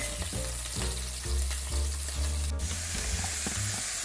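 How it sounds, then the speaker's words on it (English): Pork sizzles and is stirred in a hot pan with oyster sauce for a Thai basil stir-fry, a steady close frying hiss over a low continuous hum, with no talking. "And now stir the oyster sauce onto your protein."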